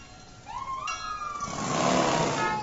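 A vehicle engine revs and builds, joined by a rising tonal whine, as an old fire engine drives past in a Memorial Day parade, growing louder toward the end.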